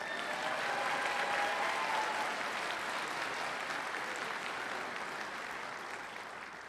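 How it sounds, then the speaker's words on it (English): Audience applauding at a spring commencement ceremony: dense, sustained clapping from a large crowd that holds steady, then gradually fades toward the end. "Give them a round of applause."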